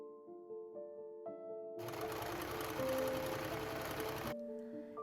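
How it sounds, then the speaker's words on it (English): A sewing machine stitches bias tape onto organza in one steady, loud run of about two and a half seconds, set between quieter stretches of soft tonal hum. "Now I'm going to sew that to the organza"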